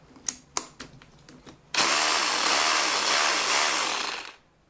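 A few sharp knocks, then an SDS rotary drill whirs loudly and continuously for a couple of seconds before cutting off.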